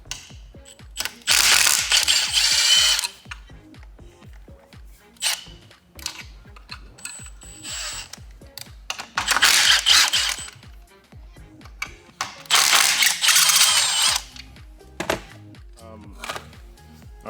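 A ratchet zips out number 6 Allen head bolts from a K series AWD/FWD transmission, with rapid loud clicking bursts separated by short pauses and lighter tool clicks.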